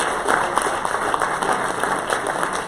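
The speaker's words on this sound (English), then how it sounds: "please give a round of applause to your teachers" Steady applause from a crowd at a hospitality and tourism forum, a continuous patter of clapping at moderate volume that holds evenly throughout.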